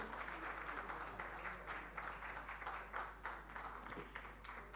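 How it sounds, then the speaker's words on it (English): Steady applause from a concert audience at the Vasanthotsava 2024 festival honouring Suresh and Nagalakshmi Rao, an even wash of many hands clapping, heard at a moderate distance and fairly soft. "May I request all of you give them a big round of applause for Suresh and Nagalakshmi Rao."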